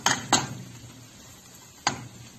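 A utensil clinks and scrapes against a pan while onion, garlic, flour and milk powder are stirred together, three sharp metallic knocks over a faint background.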